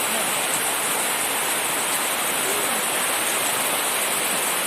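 Steady heavy rain pours down in a dense, unbroken broadband hiss, loud and close, with no voices over it.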